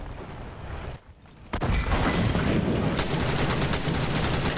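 Rapid bursts of gunfire in a World War 2 mobile combat game, a brief lull followed by a sudden loud, continuous barrage of overlapping shots and booms.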